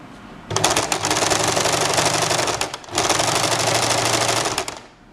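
Sewing machine stitching a simple blouse, running in two long, fast, rhythmic bursts separated by a brief pause, loud and close, with the motor's steady whir under the rapid needle clatter.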